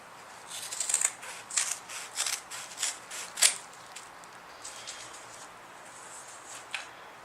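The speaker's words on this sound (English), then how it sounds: "let's make sure the scissors cut through 5 layers" Several short crisp snips through five layers of fabric, spaced about half a second apart, then quiet; light cutting sounds close by with no talking.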